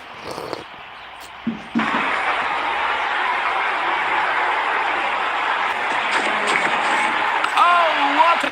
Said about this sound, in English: The crowd has gone mad.